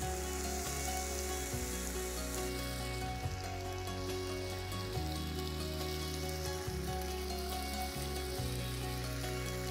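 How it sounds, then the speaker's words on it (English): Food fries in oil on a hot stone set over a campfire, a continuous soft sizzle and crackle that stays even throughout over a low, steady tonal background, with no voices. "Once you have some oil on the stone, then you can fry almost any other type of food."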